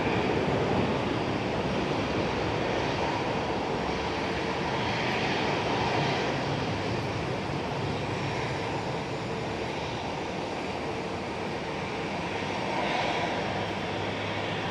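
Jet airliner rolling out on a rain-soaked runway with thrust reversers roaring and spraying rainwater during a storm at Sky Harbor, a steady loud broadband rush that swells slightly and holds throughout, with no voices.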